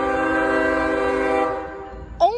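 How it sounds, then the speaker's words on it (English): A CSX freight train's air horn blows a loud, sustained multi-tone chord at a south-side road crossing, holding steady before cutting off abruptly, followed by a brief rising squeal near the end. "Oh my goodness, that is a loud horn."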